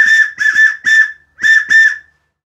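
A handmade cherry wood whistle blown in five short, bright, shrill toots, close and loud, grouped as three blasts, a pause, then two more, with no talking.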